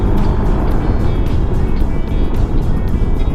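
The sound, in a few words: QJ Motor Fortress 400 maxi scooter riding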